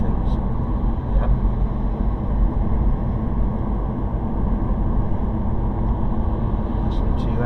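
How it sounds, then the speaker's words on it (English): A car engine runs steadily during a driving lesson, a continuous low rumble with road noise that stays constant throughout. "Listening to your engine."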